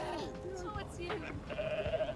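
Goats in the Goat Simulator goat city bleat in a few wavering, nasal calls, the last one long and drawn out, up close over game ambience while someone talks.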